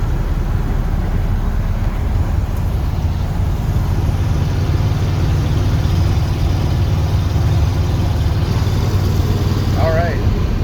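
A rebuilt engine in a 1978 Ford truck idles with a steady low rumble, continuous and close, with no voices over it.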